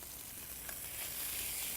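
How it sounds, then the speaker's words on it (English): Meat sears in a hot skillet with a steady, soft sizzle and hiss that swells slightly toward the end, with no voices. "Cooking really fast in the hot skillet."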